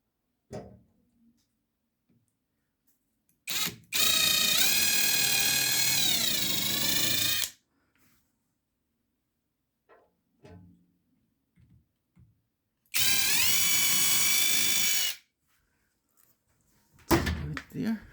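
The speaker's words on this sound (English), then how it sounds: "So let's do a quick pre-drilling." A power drill whirs loudly in two bursts of a few seconds each, pre-drilling holes in a cabinet, winding up and down, separated by quiet stretches with small clicks and handling noises.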